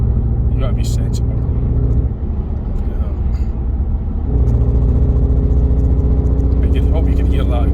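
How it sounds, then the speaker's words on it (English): A petrol Skoda Octavia vRS mk3's exhaust rumbles deep and close while driving, with the engine note rising as it accelerates; a voice talks briefly over the drone. "I hope you can hear that exhaust."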